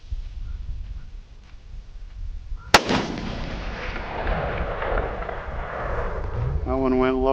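A single sharp crack from a Ruger American Gen 2 rifle in .308 fired at a 300-yard range, loud and close, followed by a long rolling echo. Faint talk sits underneath.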